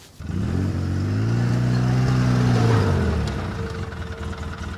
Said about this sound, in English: Now we're going to put the four-wheeler on the trailer.